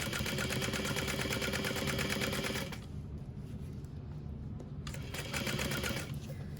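A sewing machine runs a continuous, fast mechanical whir while back stitching a 3/8 inch seam at stitch length 4, then slows to a softer, steadier hum before speeding up again near the end.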